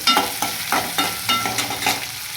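Onions and tomatoes with rock salt sautéing in a pan for ridge gourd gravy, a close sizzle broken by a regular rhythm of spoon stirs and scrapes, about three per second.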